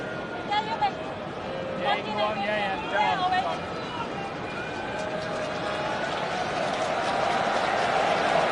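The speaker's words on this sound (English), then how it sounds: "Big appreciation of Henderson and Sturridge from this partisan Hong Kong crowd" A partisan stadium crowd in Hong Kong applauds Liverpool players at the 2017 Premier League Asia Trophy match against Leicester City. The applause and crowd noise swell steadily beneath a commentator's voice, growing fuller toward the end.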